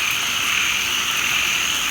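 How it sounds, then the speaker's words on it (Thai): A dense, steady chorus of frogs croaking loudly during heavy rain, an unbroken wall of rasping calls with no pauses and no voices. "กบเขียดก็ร้องระงมกันเสียงดังมาก"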